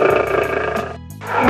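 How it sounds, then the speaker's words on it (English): Tiger roaring, a loud, growling roar that breaks off briefly and then returns as a rising second roar. "Tiger."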